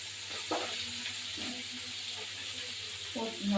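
Chopped onions dropped into hot oil with chopped green chillies and whole chillies for a light rui fish curry, giving a steady soft sizzle with a few brief clinks and stirring sounds close by.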